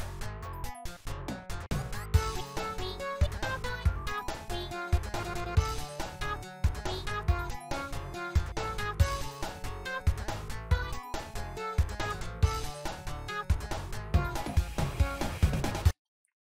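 Friday Night Funkin' chromatic scale vocal playback: choppy, rapid synthetic vocal syllables in a busy stuttering pattern, loud and continuous for about sixteen seconds before cutting off abruptly.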